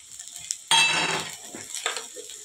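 Chopped onion and chilli dropped into a hot pan of bhindi, a sudden loud sizzle that fades gradually, with a light utensil clink and a second stirring scrape afterward.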